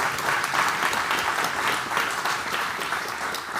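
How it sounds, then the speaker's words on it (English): A seated audience applauds steadily at a public talk, the clapping dense, loud and sustained throughout with no break. "I'll let everybody applaud"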